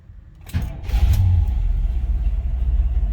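A 1976 Chevy C10 Suburban with a factory 454 V8 and no mufflers cranks briefly, then fires and settles into a loud, rumbling, uneven idle close by.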